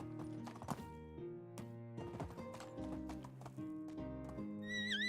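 A horse in the Medieval Dynasty video game clip-clops in a brisk, even rhythm and gives a short whinny, all fairly quiet under tonal background music.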